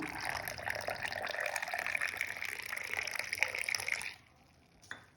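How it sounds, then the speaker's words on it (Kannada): Hot milk poured steadily into South Indian filter coffee, a continuous close liquid stream for about four seconds that stops abruptly, followed by a small clink near the end. "ಆಮೇಲೆ ಇದಕ್ಕೆ ನಾನು ಬಿಸಿ ಹಾಲು ಹಾಕ್ತಿದ್ದೀನಿ."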